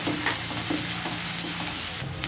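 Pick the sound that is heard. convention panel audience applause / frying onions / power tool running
frying onions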